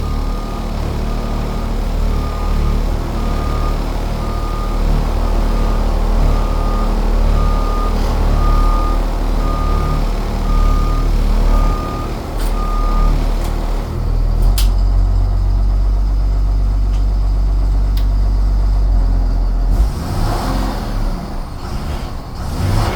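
A 2008 Thomas EF school bus backs into its parking spot, a steady reversing beep pulsing for about thirteen seconds over a loud diesel engine rumble, followed by air-brake hisses and the engine idling on close by.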